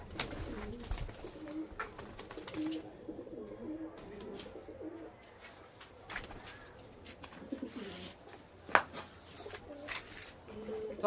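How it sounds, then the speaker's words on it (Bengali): Pigeons in a winter loft of Malabai and Madras breed birds coo and shuffle restlessly, a steady close murmur of low coos with occasional sharper calls and wing or body movement throughout. "প্রচুর ছটপটে পায়রাগুলো"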